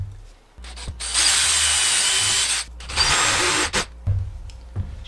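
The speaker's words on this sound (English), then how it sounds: "I'm thinking I might put two screws in this top one" A power drill drives screws into deer antler for a rustic log and leather cup holder. Two long, loud whirring bursts are close to the microphone, each ending in short stops and brief re-triggers of the motor.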